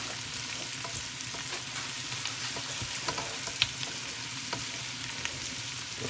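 A pan full of onions fries steadily toward caramelising, giving an even, continuous sizzle with faint stirring clicks throughout, close and moderately loud, with no talking.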